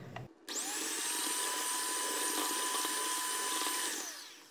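An electric mixer whirs steadily for about four seconds, beating eggs with granulated sugar for a lemon meringue tart filling, loud and close, spinning up and winding down, with no talk.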